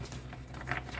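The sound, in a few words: shuffling tarot cards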